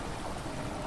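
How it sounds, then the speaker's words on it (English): Water rushing in within the video game Amnesia: The Dark Descent, a brief steady broadband wash like a pouring stream, moderately loud and with no talking. "Water rushing in there makes a strange noise."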